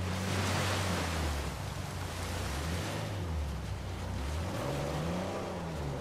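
A waterfall in Uncharted 4 roars as a dense, continuous rush of water, loud and steady, with a low droning undertone running beneath it.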